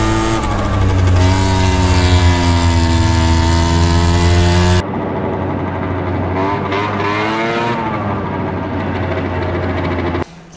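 Motorcycle engine picked up through the hidden vibration microphone inside an Insta360 X6 camera on a hard mount, a loud steady harmonic drone that shifts pitch midway with revving rises and falls, no talk.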